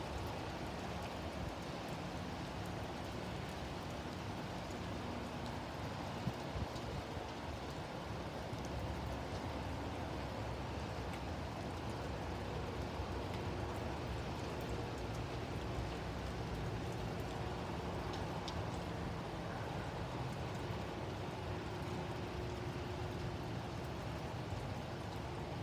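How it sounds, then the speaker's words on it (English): Wind-driven rain from Tropical Storm Hilary in Southern California, a steady, dense broadband wash of falling and blowing rain that stays loud and even throughout with no talking. "Okay, it's starting to blow the rain in"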